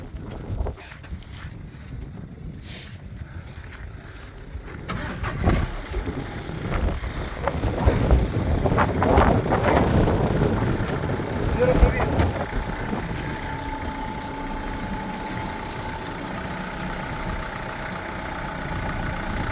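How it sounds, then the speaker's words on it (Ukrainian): A commercial vehicle's engine at an outdoor car market cranks and catches about five seconds in, then settles into a steady idle with some wind buffeting the microphone. "І зараз ми цей автомобіль заведемо. Зараз заведемо покажемо роботу двигуна."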